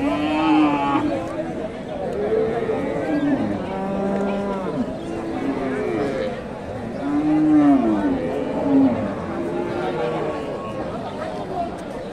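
Cows and calves, native cows and Shahiwal bull calves, moo repeatedly in long, overlapping calls at a busy Bogura cattle market, with crowd chatter and voices throughout.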